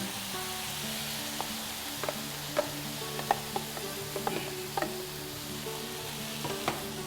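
Four medium tomatoes tipped into a hot pan for cashew tomato rice, sizzling and frying steadily while a spoon scrapes and stirs with sharp intermittent clicks against the pan, no talking.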